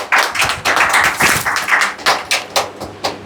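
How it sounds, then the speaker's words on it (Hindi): An audience at a Sunday prayer meeting in an Indore church hall claps in a steady, rhythmic beat, a string of sharp, evenly spaced hand claps that fills the room at close range. "ताली बजाइए आप सब।"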